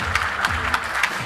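A crowd applauds at the launch of reconstruction work on the Diamondbacks baseball academy, giving steady, dense clapping with a few sharper bursts throughout.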